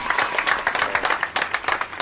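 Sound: applause for a haircut

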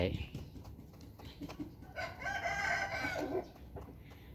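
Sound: fighting rooster crowing

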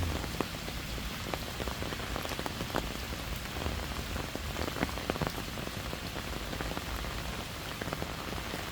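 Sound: light rain falling in a park

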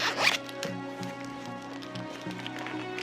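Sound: zipper on a Bible cover being opened

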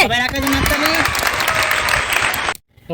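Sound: children clapping hands

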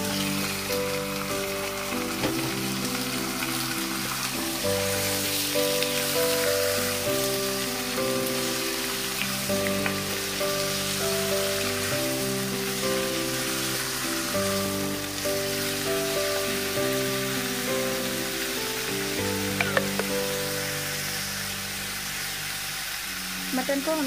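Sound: mutton frying in pan for bhuna masala

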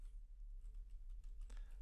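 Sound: typing on a computer keyboard

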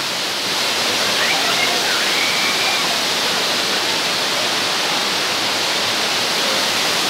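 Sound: Aguinid Falls waterfall

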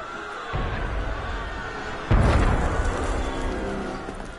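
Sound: cannon fire in the video game Assassin's Creed Unity

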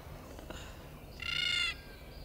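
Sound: bird calling, shooed away

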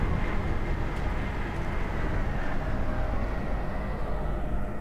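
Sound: tram ride in DOOM 3 Resurrection of Evil video game

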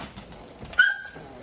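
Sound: cane corso puppy whimpering

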